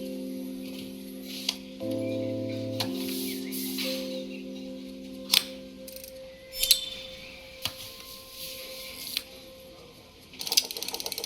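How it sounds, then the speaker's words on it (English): A small motor mechanism in the repair puzzle game Assemble with Care, with tonal whirring hums, mechanical ticks and clicks, and sharp clacks scattered across the clip, ending in a rapid rattling burst. "This motor doesn't seem to work."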